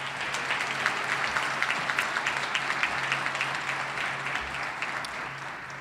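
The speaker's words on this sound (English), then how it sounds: "I think you're the one who deserves a great round of applause for what you are doing" Sustained applause from a crowd at a winter university commencement ceremony in Albany, NY, steady dense clapping throughout with a faint low hum beneath.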